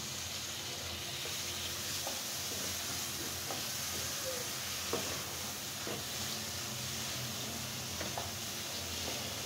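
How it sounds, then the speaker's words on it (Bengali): Fish pieces and starfruit fry in spice paste in a pan, giving a steady close sizzle and hiss with occasional soft stirring scrapes, no voices. "আমি এখন মশলার ভিতরে সুন্দর করে কেটে ধুয়ে রাখা মাছ কামরাঙা গলা দিয়ে দিলাম।"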